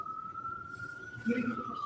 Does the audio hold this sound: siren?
yes